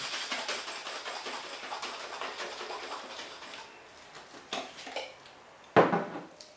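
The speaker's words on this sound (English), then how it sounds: "So dry shake is just shaking it without any ice." Dry shake of an egg white sour in a cocktail shaker with no ice, a faint rhythmic rattling and sloshing that fades out, then a sharp clink near the end.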